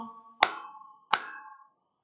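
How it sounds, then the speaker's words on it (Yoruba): Two sharp claps ring out about 0.7 seconds apart in a classroom, each one a crisp, close hand strike that praises primary-school pupils during a Yoruba lesson, with a faint hum underneath. "ẹ bá mi pàtẹ́wọ́ méjì fún wọn"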